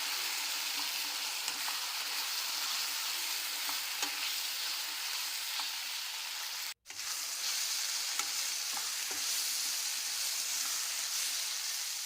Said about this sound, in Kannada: ಹಸಿ ಬಟಾಣಿ ಹಾಕ್ಕೊಳ್ತೇನೆ ಇವೆರಡರಿಗೂ ಎಣ್ಣೆಯಲ್ಲೇ ಹುರ್ಕೋಬೇಕು ಚೆನ್ನಾಗಿ